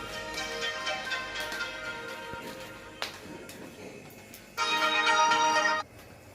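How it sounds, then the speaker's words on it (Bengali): A phone rings in a home kitchen with several short, bright electronic tone bursts at moderate volume, separated by quiet gaps, and a longer, louder ring near the end. "আবার ফোন বাজছে"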